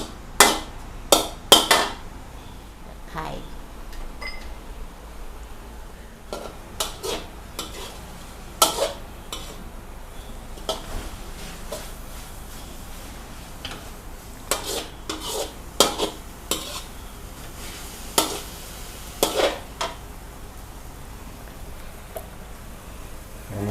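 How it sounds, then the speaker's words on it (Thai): Pad Thai noodles stir-fried in a pan with a splash of water, heard as repeated sharp scrapes and clanks of a utensil against the pan over a faint low sizzle, uneven rhythm, close by, no talk. "ใส่น้ำนิดนึงนะคะ น้ำสะอาดใส่ไปหน่อย ให้เส้นมันสุก"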